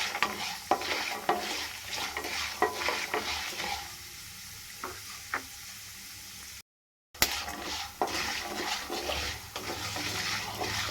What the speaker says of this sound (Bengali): প্রথমে নাড়াচাড়া করে কিন্তু এগুলো ভেজে নেবো ভালো করে